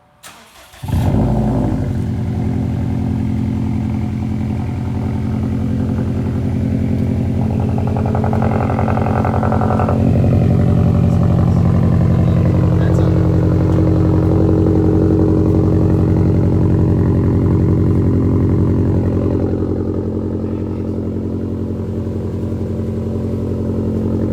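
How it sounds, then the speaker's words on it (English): A 2015 Subaru WRX STi fitted with a REMARK catback exhaust cranks and fires up, then settles into a loud, steady idle with a rev rise around the middle, heard close and alone for about twenty seconds. "He's gonna start it up real quick. We're gonna see if there's any exhaust leaks, and we'll also see how it sounds."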